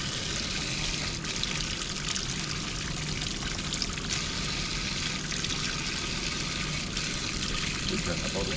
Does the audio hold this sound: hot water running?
yes